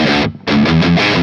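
High-gain distorted electric guitar through an amp plugin set to the high-gain channel with gain cranked, loud saturated chords with a brief gap near the start, then sustained crunching notes.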